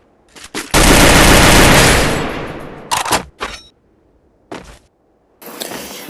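Gunfire in a Garena Free Fire match: a long loud burst of automatic fire, then several short sharp shots and a final brief burst, close and dominant with no talk.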